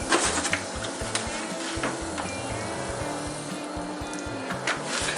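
Melted cheese being stirred into chili mac and cheese in a pot, a steady scraping and sizzling with soft rhythmic clinks of the spoon against the pan, close and continuous with no talking.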